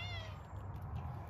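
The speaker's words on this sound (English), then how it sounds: "this cat is so funny" A house cat gives a single brief meow close by at the start, followed by quiet room noise over a low background hum, with no speech.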